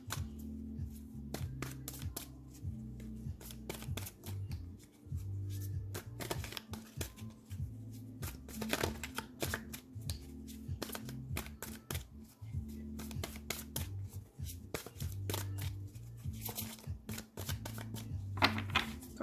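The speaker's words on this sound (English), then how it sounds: "Cards are being unruly today" Tarot cards shuffled by hand in a steady run of crisp riffles and soft slaps, close and fairly quiet, with a low background hum and no talking.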